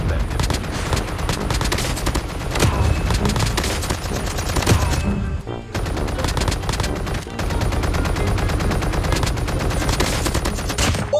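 Constant automatic gunfire from the Call of Duty Mobile battle royale game rattles on without letup, loud and dense, pausing only briefly near the middle before resuming.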